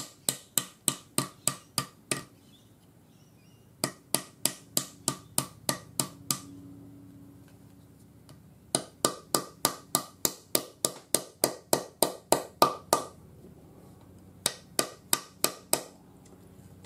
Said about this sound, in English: And then we just hammer it